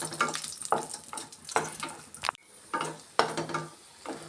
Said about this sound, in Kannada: 2 ಸೇರಿ ಮಿಕ್ಸ್ ಮಾಡಿಕೊಂಡು ಈ ಥರ ಫ್ರೈ ಮಾಡ್ಕೊಳ್ಳೋಣ.